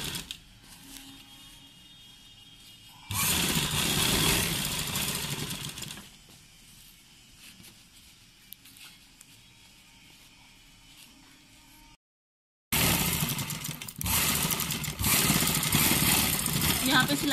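An electric sewing machine stitches a shirt collar in two loud, sustained motor runs separated by a quieter stretch where a person talks, ending in a brief silence before the machine starts again.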